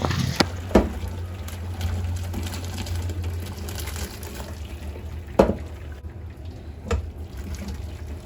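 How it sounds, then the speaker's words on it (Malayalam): Water draining off boiled tapioca (kappa) in a home kitchen: a steady low pour and trickle running through the clip, with a couple of sharp clanks of the pot near the start and toward the end, no talking. "അത്യാവശ്യം നന്നായിട്ട് വേവിച്ചിട്ട് അത് ഊറ്റി വെക്കാണ് കേട്ടോ"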